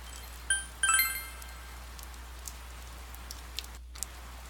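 Rain falls steadily in the video game Persona 4 Golden as a soft, even patter, with a few brief chiming tones near the start and no voices.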